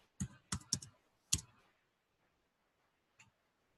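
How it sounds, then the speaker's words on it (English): Typing on a computer keyboard, a few quick clicky keystrokes close together, then a lone keypress after a pause, faint and isolated against a quiet room. "somebody's typing."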